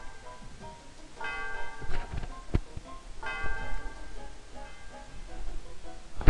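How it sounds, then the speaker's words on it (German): A bell rings twice in the video game Pokemon White, with bright metallic tones that ring on and fade, set against a soft background of clatter and faint noise. "So läuten wir mal die Glocke."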